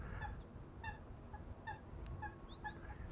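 A coot gives repeated short, honking calls at close range beside Amsterdam Schiphol Airport, over a low, steady rumble.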